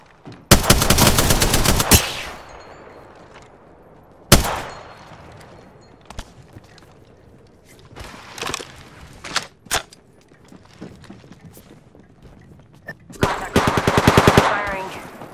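Bursts of automatic gunfire in Apex Legends ring out loud and close, a long burst at the start, a single sharp shot near the middle, scattered lighter shots and footsteps, then another sustained volley at the end.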